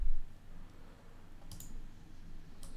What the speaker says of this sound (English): I'm going to click on this pin.